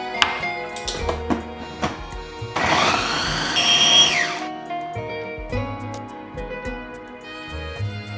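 A food processor chops garlic and onion for a Bolognese sauce, a loud whirring burst of about two seconds in the middle, set among kitchen clatter and light tapping.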